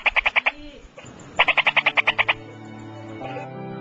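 Frogs croaking in two bursts of rapid, evenly pulsed calls made with an inflated throat vocal sac as a breeding-season mating call, loud and close, with a fainter single croak trailing at the end.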